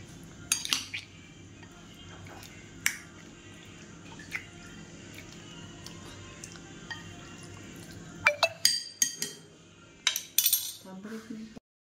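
Spoon scraping and clinking against a bowl as chicken pieces are mixed with chili powder and salt for a tandoori marinade; scattered sharp clinks over a quiet background, denser near the end.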